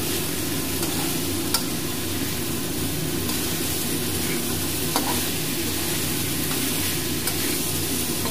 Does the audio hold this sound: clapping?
no